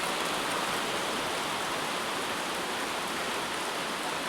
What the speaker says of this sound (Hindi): बारिश भी होने लग गई है